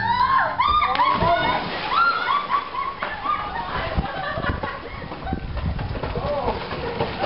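Water splashing onto a scared dog, a spray of wet splatter mixed with a dog's yelps and whines, while several people talk and exclaim over it close by.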